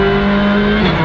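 A rally car at a rally show drones loudly up close with a steady engine tone that shifts pitch slightly near the end, sustained and without voices.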